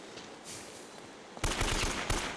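An AK rifle emptied in Uncharted: Drake's Fortune, a rapid burst of automatic gunfire that starts abruptly after a quiet stretch and rattles on at moderate loudness with a brief break.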